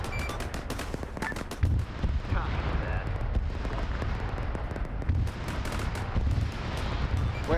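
Missiles launching in a military video game, a dense continuous barrage of rumbling, cracking fire that keeps up steadily throughout, with a voice talking underneath.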